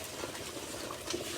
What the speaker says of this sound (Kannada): ನೀರು ಕುದೀತು.